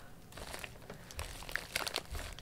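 Pink-handled scissors slicing open a cardboard package with plastic wrapping, giving close, irregular crinkling and crunching snips and tearing over about two seconds, fairly quiet, with no talking.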